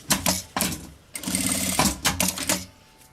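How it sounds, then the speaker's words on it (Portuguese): A sewing machine runs in short bursts and then one longer steady run, stitching a seam on a backpack strap, its rapid mechanical chatter loud and close, with brief pauses between. "Aí, vou passar uma costura aqui"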